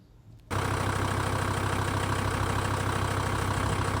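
A van engine with a loose belt tensioner pulley that was hanging off starts up loud and close, then runs with a steady rough drone and rapid rattling knock.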